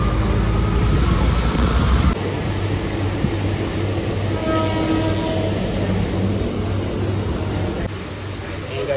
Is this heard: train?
yes